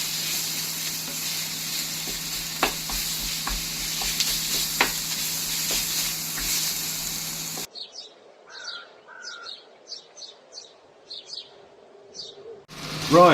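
Pork sausage meat sizzling in a pan for Italian pasta alla buttera, a steady crackling fry with scattered sharp stirring scrapes, then an abrupt cut to quieter outdoor bird chirps near the end.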